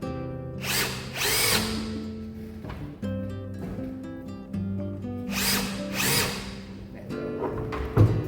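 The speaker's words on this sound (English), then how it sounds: "it's easier to do it with two drills at the same, 2 holes at the same time" Power drills bore holes into a structure, two running at once, in loud whirring bursts that rise and cut off, with long gaps of quieter winding motor tone between them and no voices.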